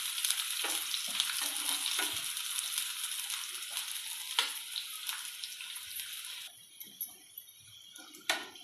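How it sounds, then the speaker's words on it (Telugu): Onions frying in hot oil for prawn biryani, stirred in the pan: a steady bright sizzle runs throughout with scraping stir strokes, easing to quieter crackle near the end. "ఉల్లిపాయలు అయితే ఇలా కలుపుకొని ఫ్రై చేయాలి, ఇంకా బ్రౌన్ కలర్ రావాలి"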